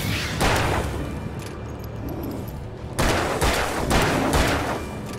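Rapid gunfire in the video game Alan Wake cracks out in close, loud bursts, with a brief lull before a second heavier volley kicks in.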